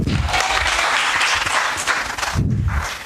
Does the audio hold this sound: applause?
yes